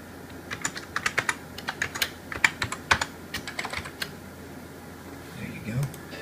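Typing on a Packard Bell rubber dome computer keyboard with soft, muffled keystrokes, a steady burst of presses close up, followed by a short pause and faint rustle.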